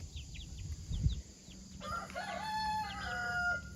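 A rooster crows nearby while chickens cluck softly in the background, followed by a long drawn-out crow.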